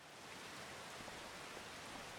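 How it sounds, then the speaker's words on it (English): Steady rain falls in the Farming Simulator 25 video game, a soft, even hiss of drops that continues without pause, fairly quiet and heard on its own with no voices. "For a change, it's raining."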